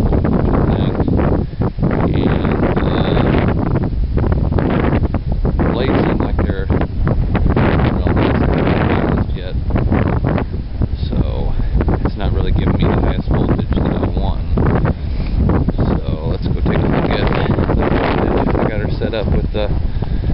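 Strong outdoor wind roars and buffets the microphone continuously around a small 4 ft wind turbine generator set up near trees, loud and unbroken throughout.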